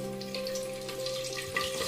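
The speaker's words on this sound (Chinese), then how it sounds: "将其直接放入六成油温的油锅当中沸腾" Pork belly frying in hot oil in a wok, a soft steady sizzle and light crackle, quiet and close with no talking.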